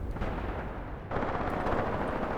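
Continuous rumbling blasts and explosions from grenades in a Graviteam Tactics Mius Front battle, a loud broadband roar that surges sharply about halfway through, with no voices.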